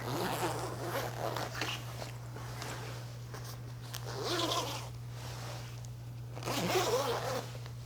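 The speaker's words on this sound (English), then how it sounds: "just start zipping up and down so that everything is spread out evenly" A freshly lubricated clothing zipper is pulled up and down repeatedly, giving soft, close raspy runs in three longer swells with a steady low hum behind.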